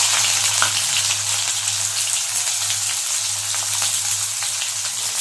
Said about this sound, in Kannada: ಈಗ ಸಾಸಿವೆ ಹಾಕ್ತೆ. ಈಗ ಈರುಳ್ಳಿ ಹಾಕ್ತೀನಿ.